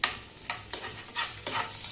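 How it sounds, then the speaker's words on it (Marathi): A spoonful of gram flour stirred into hot oil with whole spices and a bay leaf, giving a brief run of close scraping strokes over a steady, hissing sizzle. "बेसन लगेच हलवायचं बरं का"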